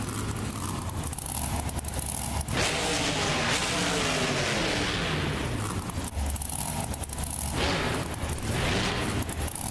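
Monster truck engine roaring continuously in a BeamNG Drive Monster Jam World Finals run, loud and sustained with booming, rumbling surges throughout.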